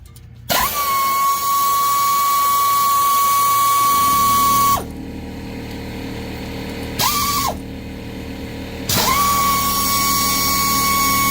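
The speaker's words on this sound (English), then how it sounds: "we're going to take out these two caliper pins, the upper and lower caliper pins, and those are 14 millimeter" Power tool whirring in bursts while removing 14 mm caliper pins on a 2019 Lexus RX 350, a loud high steady whine that stops and restarts several times, with a brief blip between runs.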